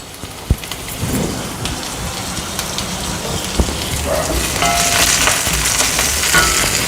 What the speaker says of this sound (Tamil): இப்போ கறிவேப்பிலையை சேர்த்துக்கலாம்.